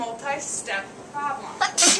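A person talks, then a single sharp sneeze bursts out near the end, close and louder than the speech.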